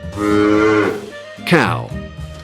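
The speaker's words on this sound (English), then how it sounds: "bull" A bull lets out one long, loud lowing moo followed by a second rising-and-falling moo, both close and clear with nothing else over them, set against faint background music.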